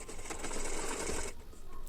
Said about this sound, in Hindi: तो मैं यहाँ पर स्टिच कर लूँगी।